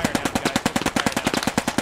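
Rapid machine-gun fire in a war video game, a steady loud stream of sharp, evenly spaced shots repeating several times per second without pause.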